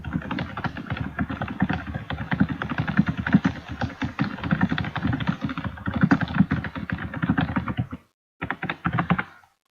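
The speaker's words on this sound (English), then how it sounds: "I'm sorry about the loud thump typing." Loud, rapid computer keyboard typing with heavy thumping keystrokes, continuous for about eight seconds, then a short pause and a brief final burst, heard during a Gems of War Bounty event game session.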